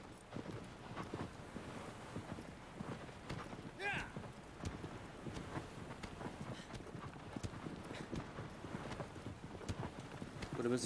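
Steady clip-clop of horse hooves at a brisk pace in the video game Shadow of the Colossus, close and continuous, with wind noise and game sounds mixed in.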